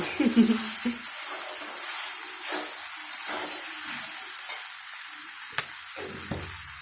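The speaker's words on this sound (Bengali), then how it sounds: "এরকম করে আমি কিছুক্ষণ ভেজে নেব" Pasta with sausage sizzling in a pan, a moderate steady frying hiss punctuated by spatula stirs and scrapes, with a brief clatter near the start and a sharp tap later.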